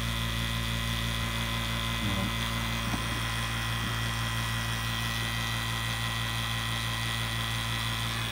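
A lightweight 115-volt CPS model VPC HVAC vacuum pump runs with a steady, even electric motor hum that holds at constant loudness throughout, with a few faint clicks and no talking.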